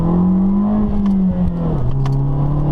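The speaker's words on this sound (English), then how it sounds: "after you hear that engine growl" Loud, close engine of a 2013 Fiat 500 Abarth with a deep growling tone, holding steady then dropping slightly in pitch as the revs ease, with no voices.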